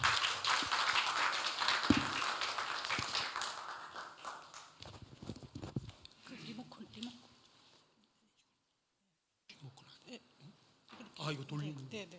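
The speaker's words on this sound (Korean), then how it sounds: "박수로 맞이해 주시기 바랍니다" An audience at a cyber university webinar lecture applauds to welcome an education innovation speaker: dense, loud clapping that thins and fades over several seconds before a short silence and faint room sounds.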